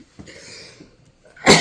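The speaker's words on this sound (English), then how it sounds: "making me cough" After a quiet stretch with a faint rustle, one sharp, loud cough bursts out close by at the end.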